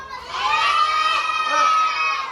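Children in the audience of a Karagöz and Hacivat puppet theatre show at a city theatre shout and cheer together, a loud, sustained, high-pitched crowd of young voices that swells and holds throughout.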